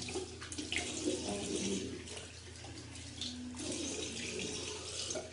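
Tap water runs steadily into a sink while a face is being rinsed during a skincare routine with a tamarind, honey and turmeric herbal cream; a continuous close splashing with no speech.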